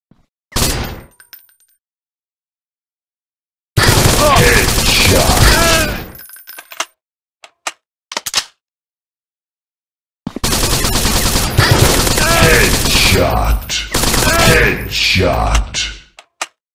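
Rapid gunfire from the Animal Shooting mobile game, with a short opening burst followed by two long sustained volleys of loud automatic fire separated by quiet gaps and a few isolated shots.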